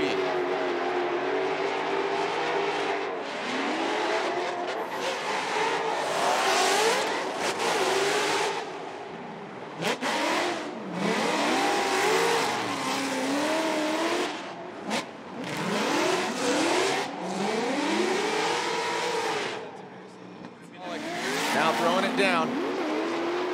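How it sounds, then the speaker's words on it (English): Falcon Tire Roush Performance Ford Mustang drift car on a professional drifting championship run: a loud engine revs up and down in repeated swoops, with tire squeal and passing roar, under constant excited commentary. "Dan and Jeff, let's listen to the Falcon Tire Roush Performance Board Mustang, JTP."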